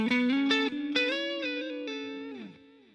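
Electric guitar played through a generic delay pedal, a few clean picked notes and a sustained chord ringing out, with short repeats trailing each attack and decaying fairly quickly, heard alone without speech.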